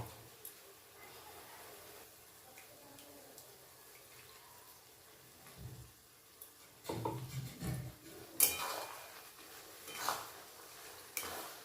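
Ground spice paste from a mixer added to golden frying onions in a pan for chicken kosha, quiet at first, then clattering spoon scrapes and sizzling bursts near the end.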